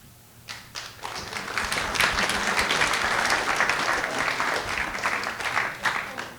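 Audience applause at a literary event on ordinary rebels, starting with a few scattered claps and quickly swelling into a full, steady round of clapping from a seated crowd.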